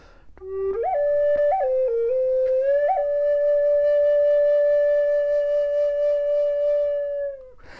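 A Native American style flute plays a few quick short notes, then settles into one long held tone that ends after several seconds. The note is clear, close and solo, with gentle vibrato.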